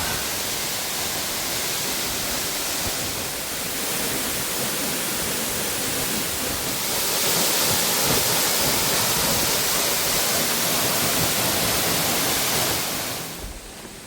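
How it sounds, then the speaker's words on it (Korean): A steady, full roar of a waterfall pouring down a rock face, loud and continuous from start to finish, swelling slightly toward the end before dropping off. "암벽에 폭포가 생겼어"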